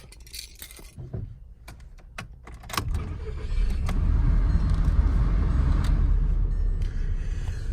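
MK5 Volkswagen GLI starting up: keys jingle and clicks inside the car, then the engine catches and settles into a loud, steady idle rumble that continues to the end.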